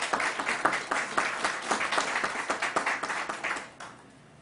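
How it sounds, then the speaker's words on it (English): An audience claps through a crowded burst of applause at a COVID-19 briefing in Buffalo, New York; the steady, dense clapping holds for several seconds before quickly dying away. "Let's give them a round of applause."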